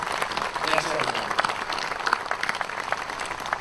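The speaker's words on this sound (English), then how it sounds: "please join me in a round of applause to acknowledge all of these efforts" A round of applause at a Navy change of command and retirement ceremony for Vice Admiral John Mustin, a dense, steady clapping from a large crowd that continues throughout at even loudness.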